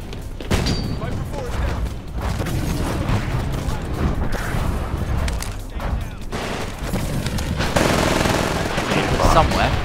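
Rapid automatic gunfire and bursts from the first-person shooter Titanfall, loud and nearly continuous, with thuds and booms mixed in and a voice talking over the shooting.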